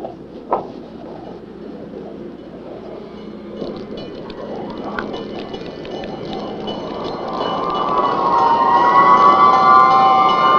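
A fire engine siren from a 1979 television drama, rising out of background noise and growing louder toward the end as the wailing tone draws nearer.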